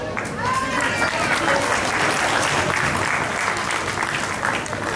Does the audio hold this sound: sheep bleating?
no